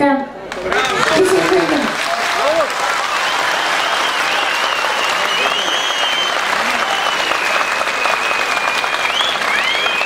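Sustained applause from a live audience for a singer at a stage performance, dense and steady, with a short bit of singing or talk at the start before the clapping swells and holds.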